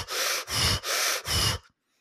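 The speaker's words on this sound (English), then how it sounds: "You're going to take a sharp inhalation as you push your arms up towards the ceiling rapidly." Four rapid, forceful breaths in quick succession, each a loud broadband rush of air through nose or mouth, evenly paced about every 0.4 seconds during a seated breathwork routine, then sudden silence.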